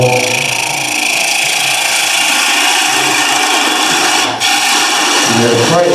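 Woodturning gouge cutting a spinning wooden workpiece on a lathe, a loud continuous hissing scrape with the motor's steady hum, briefly lifting off the cut near the end.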